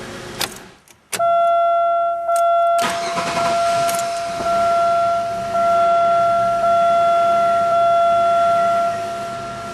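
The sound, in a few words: Chevy Malibu engine idling unevenly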